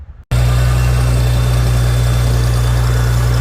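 A Farmall 756 tractor engine suddenly starts up loud and close on the road, holding a steady, deep throbbing drone with constant vibration throughout.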